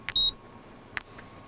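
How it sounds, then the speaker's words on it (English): A computer terminal gives two short, thin electronic beeps about a second apart, fairly faint, over a quiet room hum with no voices. "At 12:33, my terminal beeped for the 100th time."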